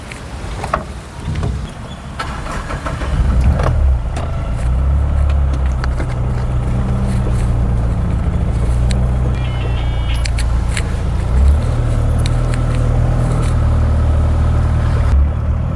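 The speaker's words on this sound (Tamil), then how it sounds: "இந்த வண்டி இப்போ நான் ஓட்டி காட்டுறேன்" A two-owner 2012 Mahindra Bolero with power steering and power windows being driven, its engine and road noise forming a steady low rumble with some wind buffeting and no talking.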